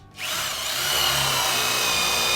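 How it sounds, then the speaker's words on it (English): A power drill spins up sharply and then whines steadily at high speed, boring pipe holes in a bathroom wall, loud and close, running without pause. "first thing we're going to do is just drill some holes to bring these pipes up in the wall"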